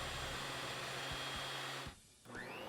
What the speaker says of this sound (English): So we'll start off with the FindBuyTool planer, and it comes in at about 105 to 106 decibels.